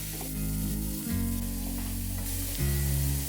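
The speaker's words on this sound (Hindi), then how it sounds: "इस प्याज को मैं भून लूंगी जब तक कि ये भी हल्का सा गुलाबी नहीं हो जाता" Chopped onion frying in a pan, a steady close sizzle with faint stirring scrapes and a low hum running throughout, no talking.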